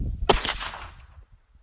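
A single suppressed 9mm gunshot fired at a range, a sharp close crack followed by a short fading rumble, alone without talk.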